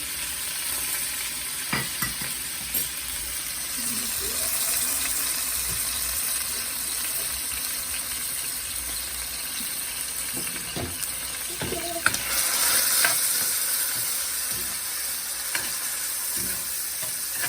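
Marinated pork for Singapore mei fun stir-frying in a hot pan, a steady broadband sizzle running throughout with scattered clacks of the utensil against the pan and a louder burst of stirring near the end, no talking.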